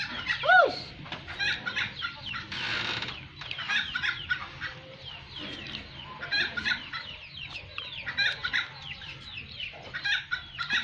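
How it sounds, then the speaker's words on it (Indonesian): Chickens clucking and squawking in a village yard, a steady busy run of overlapping calls with one louder squawk near the start, moderately close and continuous throughout. "So, itu ayam masuk tuh."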